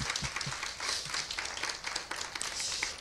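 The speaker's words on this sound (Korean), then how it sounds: "박수로 환영할까요?" Church congregation applauding to welcome first-time and returning visitors at a Korean service, a steady dense patter of many hands clapping throughout, fairly soft and even, with no talk over it.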